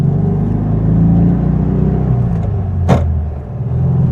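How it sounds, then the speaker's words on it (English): A 1966 VW Type 3 with a new single-port dual 34 carburetor setup drones steadily while driving, a loud, even engine rumble with slight swells in revs and a brief sharp click partway through. "The car fired up."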